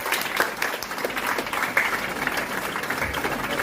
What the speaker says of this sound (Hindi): शिवम के लिए जोरदार ताली बनती है